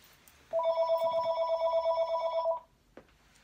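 A telephone rings indoors in one loud, steady two-second burst of electronic warbling tones, then cuts off, followed by a faint click and near silence.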